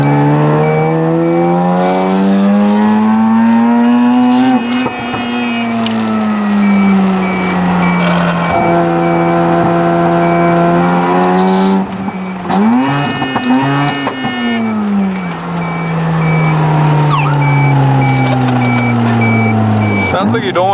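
A naturally aspirated Mazda RX-7 FC3S with a half-bridge ported rotary engine revs hard and loud, rising and falling through sweeping pitch changes with sharp blips, heard close up from inside the car.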